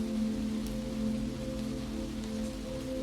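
Steady rain falls on a night in New York City, a soft even hiss with a low hum underneath, continuous and without voices.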